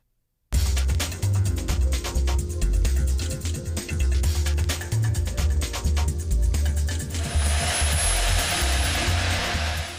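A STARS helicopter sitting on a landing zone with engine and rotors running, a loud continuous turbine roar with rhythmic rotor chop, heard close by and steady after an abrupt start, with a rising whine later on.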